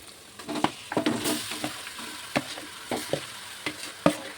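Marinated raw fish pieces dropped into hot oil for a fish pulusu, sizzling steadily with sharp clicks and pops as pieces land and are stirred, close by and with no talking.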